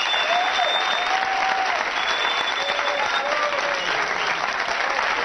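Studio audience applauding on a television journalism show, loud sustained dense clapping that continues evenly from start to end, with faint tonal whistles or cheers above it.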